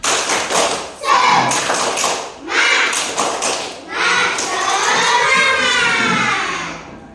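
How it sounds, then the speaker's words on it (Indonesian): Students in a classroom stand and perform a rhythmic spirit clap routine, bursts of patterned claps and thumps interleaved with young voices chanting along, fairly close and lively. "mari kita bertepuk semangat."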